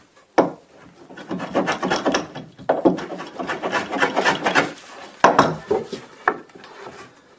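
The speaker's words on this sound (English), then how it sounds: "I'm using this tiny planer to slowly remove that material." A tiny hand planer shaves oak for a cradle in repeated rasping, scraping strokes, close and fairly loud, with brief pauses between bursts.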